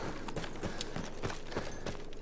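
Horse hooves in Battlefield 1, a rapid series of distinct clip-clop impacts at an even galloping rhythm, fairly close and prominent.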